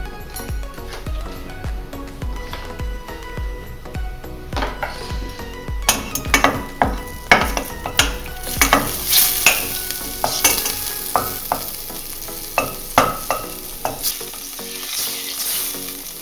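Vegetables sizzle in olive oil and butter for a ragu alla Bolognese, with a steady frying hiss under repeated close clanks and scrapes of a utensil stirring the pan, growing busier partway through.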